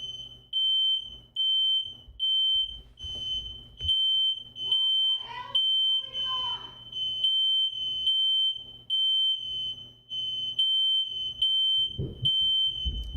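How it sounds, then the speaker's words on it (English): A home smoke alarm beeps in a steady repeating pattern, loud and indoors, with brief mumbled sounds partway through and a louder noise near the end. "that's my fire alarm"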